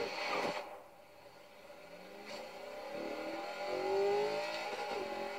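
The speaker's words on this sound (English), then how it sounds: "I'm just going to bounce it off the rev limiter." A carbureted car engine in Forza Horizon 3 revs repeatedly against its rev limiter, rising and falling in several sharp surges and stuttering bursts, loud and close with no talk.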